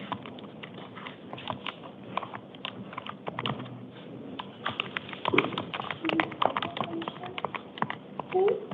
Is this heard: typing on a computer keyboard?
yes